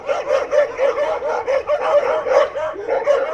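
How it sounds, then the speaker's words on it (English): Several rural dogs in a village in Adygea barking together at night, a steady rhythmic run of yapping barks with little pause, fairly close and loud, with no talk. "In the middle of the night, we woke up from all the dogs barking."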